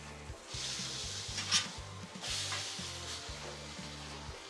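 Steak sizzling on a Blackstone griddle with one burner shut off: a steady hiss of frying fat runs throughout, swelling briefly in bursts, over a low rhythmic mechanical pulsing.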